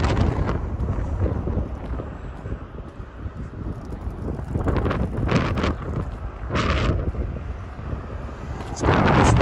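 Outdoor wind rushes and buffets the microphone throughout a walk along a creek in Regina, a steady rumble with occasional louder gusts.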